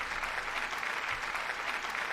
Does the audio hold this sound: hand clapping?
yes